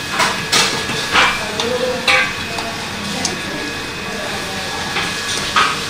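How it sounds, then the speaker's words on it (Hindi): Breadcrumbs are mixed into a mixture in a cooking pan, with a spatula scraping the pan in roughly regular strokes about once a second over a steady sizzling hiss. "इसमें हमने ब्रेड का जो चूरा बनाया था उसको डाल दिया है और इसे मिक्स कर रहे हैं"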